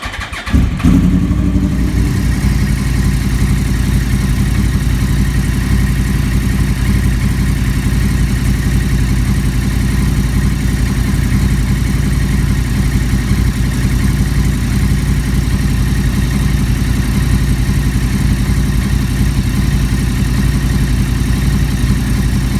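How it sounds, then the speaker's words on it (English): A 2012 Yamaha R1 motorcycle with an oil leak fires up and settles straight into a loud, steady idle close by, a continuous low engine rumble with no talking. "what I want to do right now is fire up the bike"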